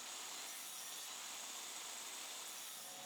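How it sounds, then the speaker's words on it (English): A saw rips slices into the top of a wooden mallet handle, giving a continuous, even, hissing cut that holds steady for a few seconds with no talk. "rip two slices into the top part of the handle."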